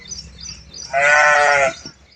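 A goat bleats once, loud and close: a single drawn-out, wavering cry lasting under a second, set against a quiet background with faint murmuring before it.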